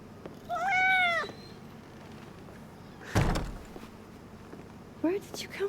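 A cat in the video game Life is Strange: Double Exposure gives one clear, drawn-out meow, followed later by a sharp thud and a brief voice.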